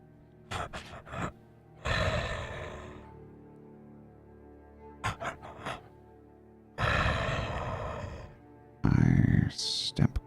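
A human voice imitates a character's breathing: a run of sharp, short gasps followed by long, drawn-out raspy breaths, repeated in several spaced bursts, close and fairly loud, ending in a strained, higher-pitched exhale.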